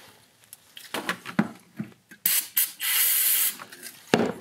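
Short hissing bursts of aerosol brake cleaner sprayed on a snowmobile clutch, mixed with clicking and rattling mechanical noises, close by.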